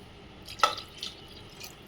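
Water poured from a glass into a cooking pot for ragi sangati lands in one sharp splash, followed by a couple of fainter drips and trickles, close by in a quiet kitchen.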